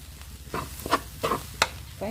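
Mackerel chili paste dry-roasting in a pan, with a few soft scraping stir strokes and faint sizzling at close range, each stroke brief and spaced about every third of a second, under quiet background.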